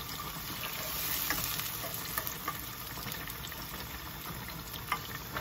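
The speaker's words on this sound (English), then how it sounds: "So I'm going to put my onions and hot Scotch bonnet pepper." Onions and Scotch bonnet pepper sizzle steadily in hot oil in a pan, a soft continuous frying hiss with small pops and stirring scrapes, no voices.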